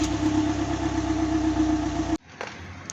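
A Volkswagen Crafter 2.0 TDI diesel, just repaired with a welded cylinder head, idles with a steady, even rumble close by before cutting off abruptly, leaving a quiet tail with a faint clunk.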